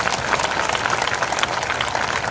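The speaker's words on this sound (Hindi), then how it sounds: "जोरदार ताली बजाकर धन्यवाद दें" A congregation at a live prayer service claps loudly and continuously, a dense wash of applause with no break.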